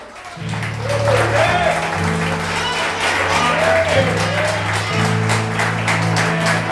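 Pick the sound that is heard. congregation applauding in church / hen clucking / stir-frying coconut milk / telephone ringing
congregation applauding in church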